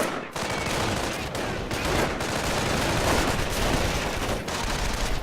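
Rapid, sustained gunfire and machine-gun bursts rattle close and loud in a Company of Heroes battle as troops focus fire on enemy engineers, with a few brief gaps between volleys.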